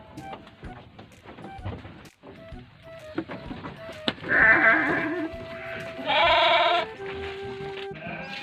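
Sheep bleating in several drawn-out calls, one near the middle and a louder, longer one later, amid scattered clatter and background noise.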